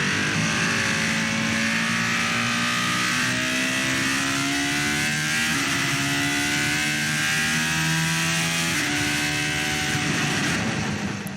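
A McLaren Solus GT single-seater track car with an 828 hp V10 that revs to 10,000 RPM screams loudly and continuously, its pitch climbing and shifting through several rev sweeps with no voices over it.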